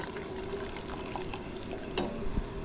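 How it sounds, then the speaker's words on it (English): Water heating to a boil in a pot on a camping stove, a steady close bubbling hiss with a few louder pops and spits near the end. "that water starting to boil"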